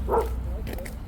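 A small dog gives a single quick, high yap against a steady low background hum.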